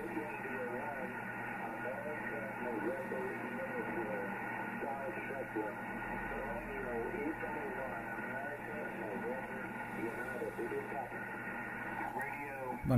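A Kenwood TS-830S ham radio transceiver relays a voice transmission, with band-limited, slightly distorted speech carried over a steady hiss and hum throughout.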